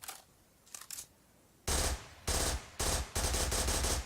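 Three-round bursts from a rifle in a Modern Warfare mod for a shooting game: a few faint clicks, then four loud, dense bursts of rapid gunfire in quick succession.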